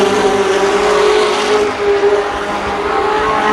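Race cars run side by side at Columbus Motor Speedway in 1993, a steady loud engine roar with a sustained harmonic whine close by, holding nearly constant through the stretch with a brief dip midway.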